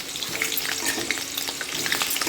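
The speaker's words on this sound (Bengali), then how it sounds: "এরপর আলুগুলো একে একে ছেড়ে দেবো আলুগুলো বেশ লাল লাল করে ভেজে নেব" Potato pieces fry in smoking-hot oil with a dense, loud, continuous sizzle and crackle, close up and without talk.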